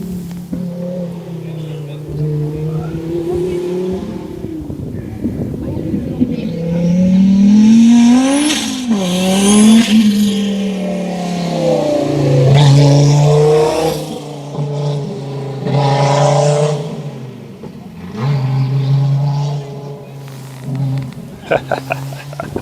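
A BMW rally car revs hard and drives past at a rally event, its engine rising and falling through several loud sweeps over about twenty seconds, with people talking nearby.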